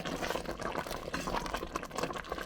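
Rhubarb and ginger jam boils in a pan with candied ginger mixed through, giving a steady, close bubbling and popping texture throughout with no talking.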